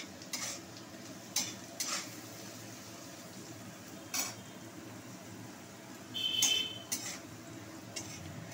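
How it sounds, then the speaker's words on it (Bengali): Potatoes frying in a pan as part of a home-cooked khichuri meal, with a low steady sizzle under occasional scrapes and stirring clinks, heard close and fairly quiet. "আলু ভাজা হচ্ছে"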